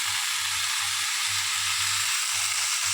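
A spice paste of ground lentils, ginger, cumin and green chilli fries in a pan with a loud, continuous hissing sizzle, while a low rhythmic thumping comes from it being stirred.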